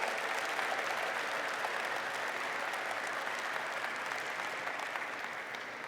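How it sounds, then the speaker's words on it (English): Conference crowd at a developer event in India claps in a full, even roar of applause that holds steady and fades slightly at the end, with no talking. "I want to give yourself a big round of applause"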